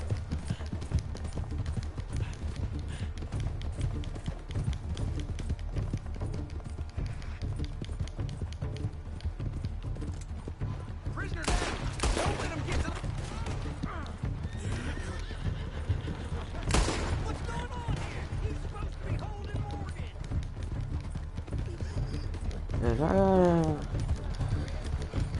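Galloping horse hooves in Red Dead Redemption 2, a steady clip-clop running under game ambience with a couple of sharp gunshot-like bursts and a brief whinny near the end; talk is present.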